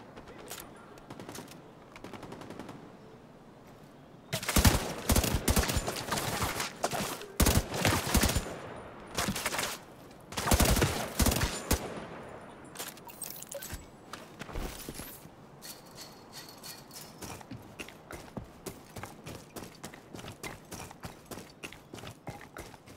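Gunfire during cover shooting in The Division 2: rapid automatic bursts of loud, close shots in several clusters, with sustained volleys in the middle and lighter, scattered firing before and after.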